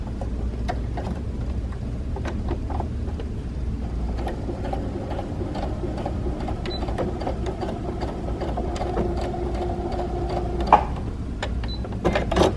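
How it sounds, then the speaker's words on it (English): Sewing machine running steadily along the edge of fabric for a scrunchie, a continuous close mechanical whir with rapid needle ticks, ending in a few louder clicks. "you're just sewing along that edge"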